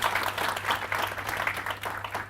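An audience applauds after a panel debate at an economic roundtable in Durban, a dense, steady round of clapping from a moderate distance, with no voices.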